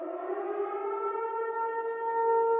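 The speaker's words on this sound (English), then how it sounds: "that siren means that someone's got my browsing data" Civil defense siren from a Silent Hill styled ad: a single loud sustained wail with a stable pitch and rich harmonics, heard alone with no other sounds.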